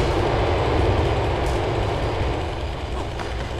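A train in Grand Theft Auto IV rolls past, a loud, steady rumble with a faint metallic rattle that eases slightly toward the end.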